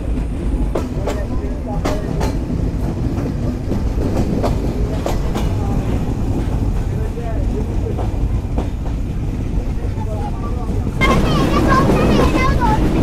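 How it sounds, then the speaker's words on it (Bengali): The Kopotaksho intercity express on the Khulna-Rajshahi line pulling out of Kotchandpur station in the evening: a steady close rumble with rhythmic clickety-clack and wind buffeting, growing louder near the end, with faint voices at times. "আন্তনগর কপোতাক্ষ এক্সপ্রেস ছেড়ে গেল কোটচাঁদপুর রেলওয়ে স্টেশন থেকে বিকেল 6টা 24 মিনিটে"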